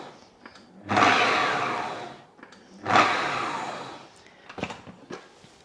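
A Magimix food processor pulsing mushrooms into fine crumbs: two loud, close bursts of whirring motor, each about a second long and fading, followed by lighter clicks and clatter of the machine.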